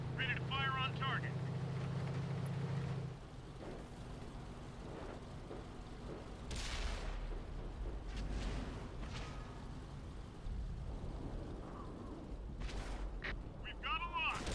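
A tank gun fires in World of Tanks, heavy booming shots with rumbling decay amid game engine noise and radio-style voice lines, with a person talking over it.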